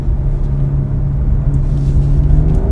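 A 2018 BMW M2 Coupé with 370 horsepower accelerating in Sport Plus mode, its engine a steady, loud, low droning rumble heard from inside the cabin, rising slightly in pitch, with no talking.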